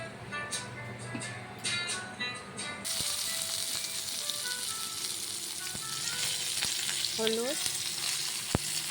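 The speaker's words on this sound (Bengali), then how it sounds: "এখন পটল ভেজে নেব।" Pointed gourd (potol) frying in a pan after potatoes, a continuous close sizzle with light stirring clatter, a brief voice and some kitchen sounds mixed in.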